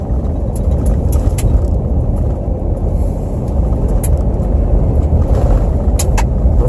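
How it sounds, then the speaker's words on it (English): A 2020 Ford F250 Super Duty pickup running at highway speed on a firm dirt road, giving a loud, steady rumble of tire and road noise with a continuous engine drone and no voices. "We are going 60 miles an hour on this dirt road, and it is not a soft road."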